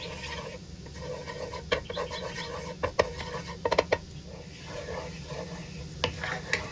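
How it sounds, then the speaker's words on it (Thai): Butter melting and stir-fried in a pan on a home stove for a garlic butter shrimp sandwich, giving a steady low sizzle with scraping and clinking of a utensil against the pan, nearby and without speech. "รอจนกว่าผัดไปจนกว่าเนยจะละลายนะคะ"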